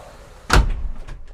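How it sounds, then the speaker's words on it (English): A cabin door on a Merry Fisher 795 Sport Series 2 boat shuts with one loud, close thud, followed by a short rattling settle and faint knocks as it closes. "you can close all these doors"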